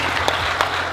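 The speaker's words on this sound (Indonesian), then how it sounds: "Tepuk tangan untuk kita semua." A brief burst of audience applause at an evening public-speaking event with Sandiaga Uno, a dense wash of clapping from a crowd with a couple of sharper claps standing out.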